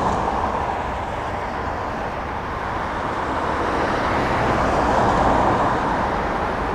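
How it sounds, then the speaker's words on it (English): Steady road noise at night from passing motor traffic behind a commuting cyclist, a broad continuous rumble that swells slightly toward the end as a car closes in from the rear. "maybe it looks like a car is getting behind me"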